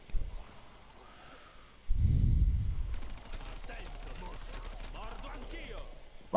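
Rapid bursts of gunfire in a zombie video game crackle in quick succession after a brief low thump, fairly close and steady, with no talking over them.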